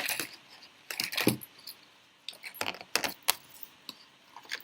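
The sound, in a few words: keychain being handled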